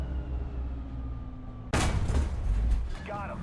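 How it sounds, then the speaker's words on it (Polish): A sudden loud FV4005 Stage 2 tank cannon blast cuts through a low engine rumble, followed by a rolling ammunition explosion and crackling debris in War Thunder. "Odłamki zabiły załogę i amunicja wybuchła."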